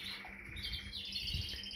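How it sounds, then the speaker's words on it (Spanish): Pet birds with their first weaned chicks give faint, high, continuous twittering chirps, soft and somewhat distant against a quiet background. "Bonito el pájaro, mira que lo bonito el pájaro."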